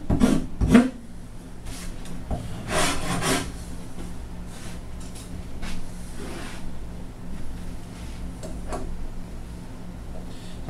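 A rasp shapes a wooden guitar neck in separate strokes: short, dry, scraping bursts come at uneven intervals, close and moderately loud, with quieter gaps between them.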